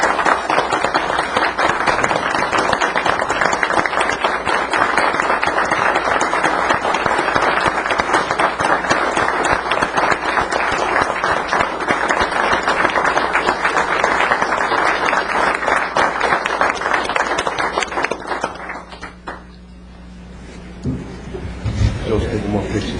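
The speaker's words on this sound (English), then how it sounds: "I'd like to applaud these gentlemen for their service." Attendees at a county board of commissioners meeting stand and applaud: a long, loud, steady roar of many hands clapping that holds for about eighteen seconds, then cuts off into quieter room noise and murmuring.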